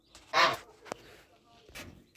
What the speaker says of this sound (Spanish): Aquí a la par están los gansos